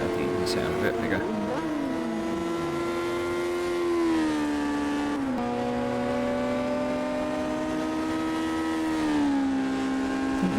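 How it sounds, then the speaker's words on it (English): A historic Formula 3 race car engine at Castle Combe drones steadily and loudly, its pitch dipping and shifting a couple of times as it changes gear, with faint talk underneath. "It's good to have the engine sound a bit bigger."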